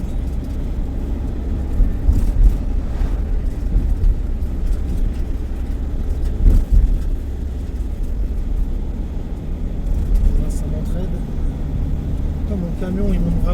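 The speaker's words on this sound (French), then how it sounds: "Mon camion il monte vraiment bien," A small van engine hums steadily and strains while climbing uphill, a continuous low drone with faint road noise and no clear pauses.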